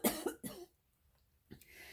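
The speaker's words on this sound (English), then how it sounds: "hold on, I got a cough." A single close cough bursting out twice in quick succession, followed by a pause and a softer throat sound at the end.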